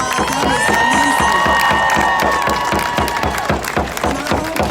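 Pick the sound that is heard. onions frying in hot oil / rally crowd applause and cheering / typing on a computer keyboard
rally crowd applause and cheering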